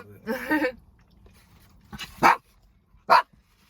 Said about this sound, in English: You can tell the difference between their barks